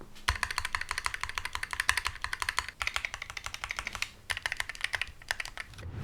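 Fast, steady typing on an ergonomic keyboard whose stabilizers still rattle, a dense run of close clacking keystrokes with only brief pauses, and no voices.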